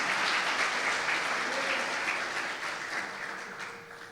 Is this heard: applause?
yes